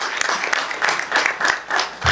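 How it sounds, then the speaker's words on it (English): An audience at a Board of Education meeting applauds, a short, fairly close round of clapping that lasts a couple of seconds. "let's give them a round of applause too"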